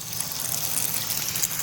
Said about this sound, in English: So you can see the water goes in this drain